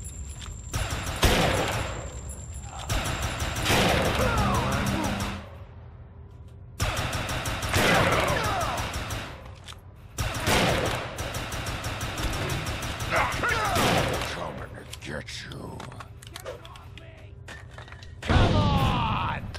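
Grenades explode in the video game Defiance 2050 amid a chaotic firefight. Repeated heavy blasts and bursts of gunfire come in loud waves with short quieter gaps between them, and game voices talk over the action.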